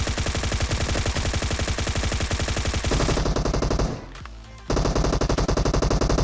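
Rapid automatic gunfire from a VSS rifle in the BGMI battle royale game, a dense, loud rattling burst running steadily for about four seconds, breaking off briefly, then resuming.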